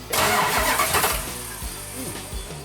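A 'Cuda with a very large cam is started by remote starter; the engine cranks and catches, then settles into a low idle rumble, close by with no talking.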